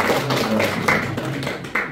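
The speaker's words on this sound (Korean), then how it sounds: "환영의 박수 드리겠습니다." A church congregation gives welcoming applause during a Palm Sunday morning service, a dense, continuous wash of many hands clapping for about two seconds with no voices.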